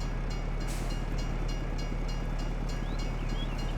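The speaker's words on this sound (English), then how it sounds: "Let's say we wait for the train to go on through," A train rolls through a railroad crossing in the Farming Simulator 22 game, a steady rumbling roar with faint rhythmic clicking of wheels on the track, continuous and fairly distant.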